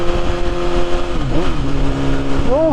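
A 2021 BMW S1000RR motorcycle fitted with an Akrapovic Evolution exhaust revs close by, its loud steady engine tone rising and dipping twice in quick blips.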